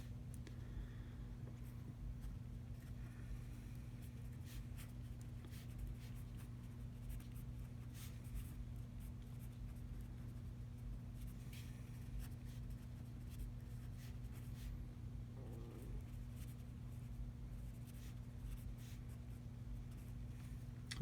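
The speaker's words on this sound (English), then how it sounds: "Let's go ahead and write this." Marker or chalk strokes of someone writing a math equation on a board, a long run of faint, irregular scratchy taps and strokes over a steady low electrical hum, with no talking.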